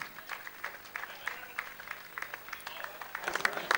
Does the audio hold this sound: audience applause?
yes